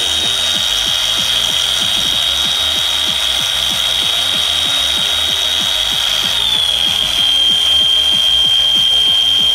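A Hitachi G14DBVL 14.4V cordless angle grinder runs steadily with a high, sustained motor whine and a fast, even whirr underneath. The pitch shifts slightly partway through, and it plays alone at close range.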